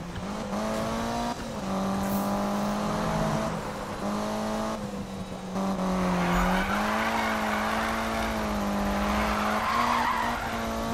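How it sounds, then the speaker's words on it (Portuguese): A Lancer Evo drifts in Need for Speed 2015 with a steady, loud tire squeal over the engine's droning rev, sustained nearly throughout with slight pitch wobbles as the slide shifts, with no talking. "Nossa, o Lancer tá muito bom pra drift"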